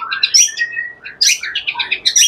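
Bright, varied song of a white-rumped shama with rapid whistles and chirping phrases, loud and close, in bursts separated by brief pauses.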